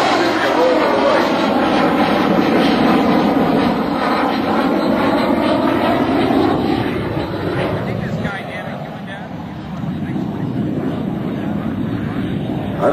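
An aerobatic propeller airplane at an airshow roars loudly overhead, its engine pitch sliding as it maneuvers and then fading slightly, while an announcer talks over it.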